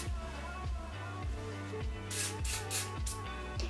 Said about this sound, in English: I just take it and I kind of just spray it lightly on my hair.